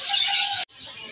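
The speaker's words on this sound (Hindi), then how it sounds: "ये देखें कितने प्यारे कबूतर हैं" Chirps and coos from caged pigeons at a bird market shop, a steady busy bird chorus that breaks off briefly and then resumes, with no talk.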